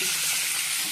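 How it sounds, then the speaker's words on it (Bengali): An egg frying in a pan for egg curry, a steady close sizzle with a bright hiss that fills the short moment without pause, and no voices. "ডিমে কারি করবো, তার ডিমটা ভেজে দিচ্ছি"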